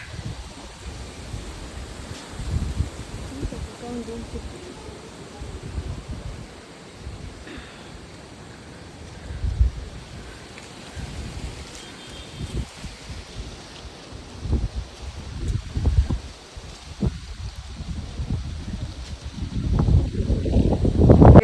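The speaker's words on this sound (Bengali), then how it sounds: "যেরকম হাওয়া হচ্ছিল এখন মনে হচ্ছে আর একটু সন্ধে হয়ে গেছে একটু হাওয়াটা পরিমাণটা বেড়ে যাচ্ছে" Strong, gusty evening wind buffets outdoors in uneven low rumbling surges that swell and fade and grow louder and heavier toward the end.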